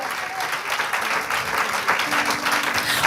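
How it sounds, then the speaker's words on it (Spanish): Church congregation applauding steadily and continuously throughout, a dense mid-level clapping texture with a faint tone sustained underneath. "Dele ese aplauso al Señor."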